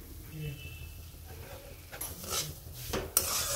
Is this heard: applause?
no